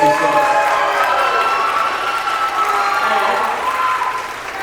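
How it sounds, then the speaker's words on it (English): Sustained audience applause fills a school spring band concert after a jazz set, dense and steady throughout with crowd murmur mixed in, dipping slightly near the end. "another round of applause"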